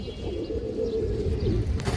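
Pigeons coo steadily in a loft among tagged breeding pairs and young birds, a soft low throaty cooing that carries on close and continuous over a faint background hum, with no talking.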